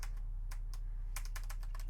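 Someone types on an old computer keyboard in quick, irregular clicks over a constant low electrical hum.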